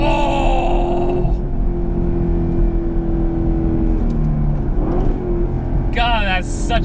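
Chevrolet Camaro SS 1LE V8 engine pulling hard on a race track, a loud sustained drone with rising revs and an upshift, heard from inside the car alone until a sharp climbing note near the end.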